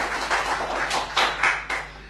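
A small audience at a Berber cultural association book event claps for an author, light scattered clapping in a modest room with a few sharper, louder bursts of hands toward the end, over a low steady hum.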